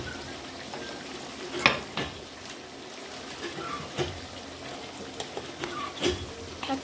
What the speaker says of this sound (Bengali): এখন এটাকে ভালোভাবে কষিয়ে দেবে